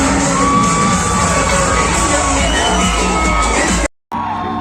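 A packed cinema audience at a late-night second-show screening of the Malayalam film Aavesham cheers, whoops and shouts loudly and without pause, with a brief cut to silence just before the end.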